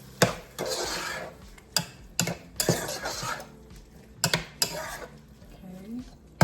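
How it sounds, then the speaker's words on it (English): Chicken chili is stirred in a pot, with a utensil scraping and knocking against the sides in repeated sharp clacks and rubbing sounds, close and moderately loud. "let me stir this."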